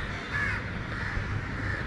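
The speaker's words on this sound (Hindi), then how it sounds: "कौवा है" Crow cawing outdoors, a faint, steady harsh call held under a background hiss, with no speech.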